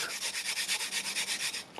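Rapid, even back-and-forth scraping of a charcoal stick rubbed at a shallow angle across a gritty sanding block, about a dozen strokes in quick rhythm, close and alone.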